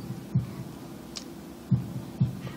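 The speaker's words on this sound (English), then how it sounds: "holding my breath in an attempt to hear my heartbeat" A faint, low heartbeat effect in the Katawa Shoujo visual novel, a few soft muffled thumps at uneven spacing over a quiet hum.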